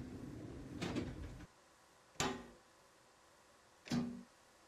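A rumbling mechanical noise cuts off, followed by two sharp hissing clunks a couple of seconds apart, like pneumatic train doors releasing and sliding open, in the train simulator game SimRail.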